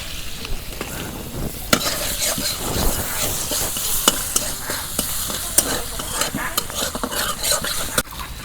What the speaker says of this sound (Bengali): দিয়ে দিলাম পেঁয়াজ কুচি।